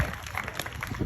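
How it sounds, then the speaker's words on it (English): A brief burst of audience applause and crowd noise at a stage magic show as a volunteer walks up, dense clapping close by for about a second. "Let's give her a round of applause."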